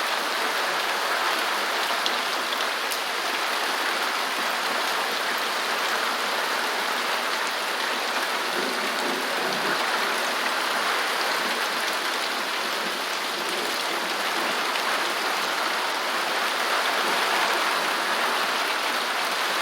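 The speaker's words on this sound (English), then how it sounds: "so it is getting some rain now" Steady June rain falling over dry countryside in rural Jamaica, a continuous even hiss of drops on plants and soil that stays constant throughout with no voices.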